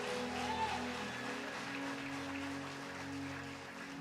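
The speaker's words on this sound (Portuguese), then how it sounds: "Agora aplaude ele direito, aplaude." Church congregation applauds during a sermon, with a steady wash of clapping sitting under sustained organ or keyboard tones, moderately loud throughout.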